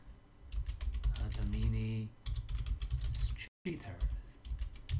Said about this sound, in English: So now we type net local